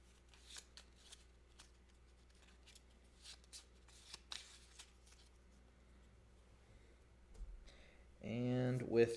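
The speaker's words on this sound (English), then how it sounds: "We're going to shuffle these." Cards from a Gloomhaven: Jaws of the Lion board game are shuffled by hand in quiet, irregular riffling bursts at close range, followed by a voice speaking at the end.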